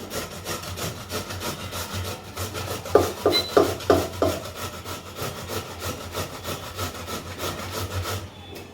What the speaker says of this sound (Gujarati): આ રીતે બે આવી રીતે છીણી નાખશું.